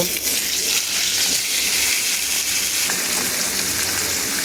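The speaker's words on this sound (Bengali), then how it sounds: "তো মাথাটা ভাজা হচ্ছে" Katla fish head frying in leftover potato-frying oil in a wok, a dense continuous hiss of bubbling oil, steady and close throughout.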